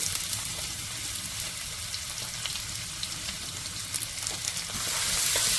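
Red onions hit hot oil in a pan and sizzle steadily with a dense, crackling hiss close by, swelling slightly louder toward the end, with no voices.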